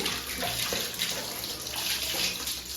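Water from a tap gushes onto a dirty, soaked air-conditioner filter being washed, a steady splashing rush with bubbly fluctuations, close up and continuous without speech.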